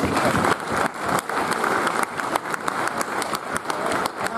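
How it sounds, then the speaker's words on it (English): A crowd claps steadily in dense applause at a cricket league annual awards presentation, fairly close, sustained throughout. "Now that deserves a big round of applause."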